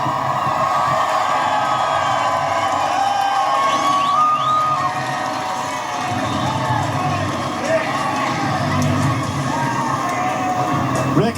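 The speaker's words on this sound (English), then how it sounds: "now he climbs out and the crowd roars" A large crowd at New Hampshire Motor Speedway roars and cheers steadily after a NASCAR race win, a loud continuous swell of voices with a race announcer talking over it.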